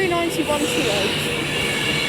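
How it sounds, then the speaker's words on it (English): An Avanti West Coast Class 390 Pendolino pulls into Crewe station with a loud rail rumble, squealing tones from the wheels and faint clatter, close by under a steady wash of station noise. "Now arriving is the 1249 Avanti West Coast service from London Euston to Glasgow Central, being worked by a Class 390 Pendolino."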